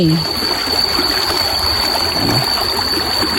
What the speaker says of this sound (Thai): น้ำไหลเด้